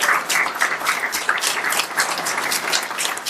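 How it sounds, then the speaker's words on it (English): A crowd applauding at a Thanksgiving gathering, continuous close clapping at a steady level throughout without any talk. "I want you to give a round of applause for Rabia."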